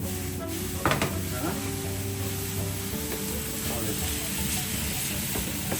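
Noodles with capsicum fry in a pan, producing a steady sizzle broken by several utensil clatters and scrapes. A faint voice can be heard in the background.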